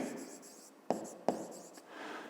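Pen writing by hand on paper while working a fifth-grade maths exercise, with soft scratchy strokes and a couple of sharp taps, close and quiet, and no speech.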